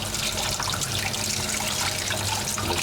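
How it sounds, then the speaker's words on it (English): Cold tap water runs steadily from a faucet into a colander over a pepper, a continuous close splashing hiss that stays even throughout with no talk. "Into the colander, nice cold water, keep it running"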